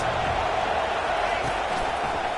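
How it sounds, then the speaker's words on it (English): A college football stadium crowd roars while the defense is on the field, a dense, steady wall of massed voices that fills the whole clip without letting up. "Listen to this crowd just shaking the girders of this place, trying to help their defense."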